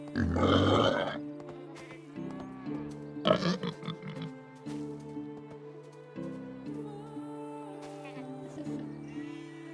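Pigs grunting and oinking in the medieval farming game Medieval Dynasty, several short snorts and grunts in bursts over a steady background music bed, fairly close.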